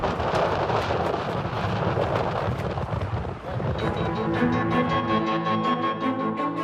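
A ferocious thunderstorm with rain battering a tent camp: a loud, continuous roaring wash of wind and rain with deep rumbling throughout, later joined by sustained tonal sounds over the storm.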